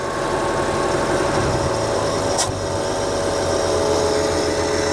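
Engine of a 1967 Ford F100 pickup truck settling into idle, a steady continuous rumble with a constant hum and vibration throughout, close and fairly loud, with no voices.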